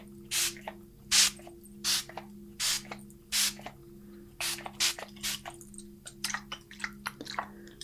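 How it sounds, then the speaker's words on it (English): Spray bottle spritzing during a soft-spoken Reiki healing session, a series of short airy bursts in an uneven rhythm, close and fairly loud, followed by quieter scattered ticks and drips with no talking. "Just doing one final spritz again to seal this."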